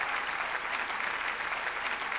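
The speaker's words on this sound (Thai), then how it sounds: "ปรบมือให้แม่ด้วยนะคะ" A steady patter of audience applause fills a Thai award ceremony hall, many hands clapping evenly and continuously, moderately distant with no voices over it.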